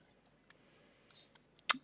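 A computer mouse button clicks several times at an uneven pace, sharp close taps in near silence while a laser cutting design is edited on screen.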